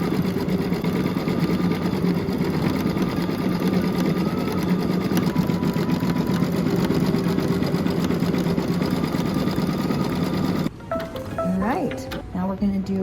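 A Baby Lock Altair embroidery sewing machine runs a steady, loud applique satin stitch around a leaf design, humming continuously for about eleven seconds before stopping, followed by brief handling noises.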